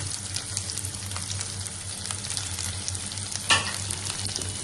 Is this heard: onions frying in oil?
yes